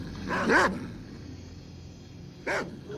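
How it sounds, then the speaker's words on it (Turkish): A dog in the S.T.A.L.K.E.R. video game, out in the open-world Garbage area, gives two short barks, the first near the start and a second about two seconds later, with quiet ambience between them. "Bakın köpeğin cesedi taşıdığını görebilirsiniz."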